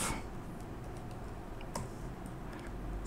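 Keys clack in quick, light bursts on a computer keyboard while printf code in C is typed, close and fairly quiet with a few sharper clicks.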